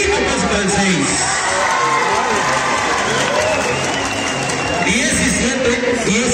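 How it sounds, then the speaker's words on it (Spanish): Crowd at a tournament final in San Juan Teposcolula applauding both teams, dense continuous clapping with some cheers and shouts, loud and close, with a commentator's voice talking over it. "Vemos el aplauso para ambos equipos, público."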